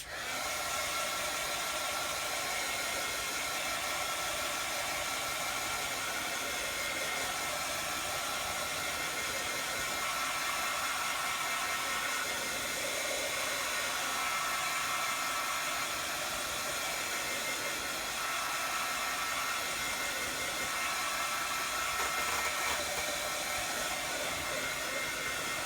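A hair dryer blows a steady, loud whoosh of air onto a craft page from an Illustrated Faith "I AM" journaling kit, running continuously and alone throughout with no talking.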